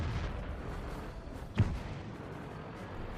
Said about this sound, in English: Get a good fire into him on this upper plate.